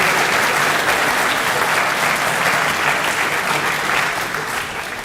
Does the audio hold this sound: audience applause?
yes